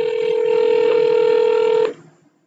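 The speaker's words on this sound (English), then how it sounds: "And dial extension 2." A single steady telephone keypad tone sounds loud and unbroken for almost two seconds, then cuts off, dialing an extension on an Asterisk phone system.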